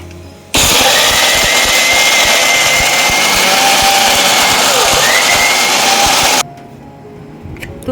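A mixer grinder blends ginger, onion and tomato into a paste, roaring loudly and steadily for about six seconds before cutting off to quieter background sound.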